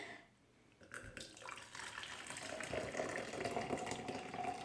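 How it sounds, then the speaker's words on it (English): Boiling hot water pours steadily into a bowl for making clear slime after a brief pause, a close, rushing splash that grows fuller as it fills. "now you're gonna add in some boiling hot water"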